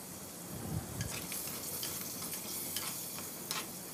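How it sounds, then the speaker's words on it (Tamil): Dried fish frying in oil, a faint, soft sizzle with scattered small pops and crackles over a quiet bed of bubbling, no voices heard. "இப்போ நான் வந்து இந்த ஆயிலில் பொறிக்கிறேன்."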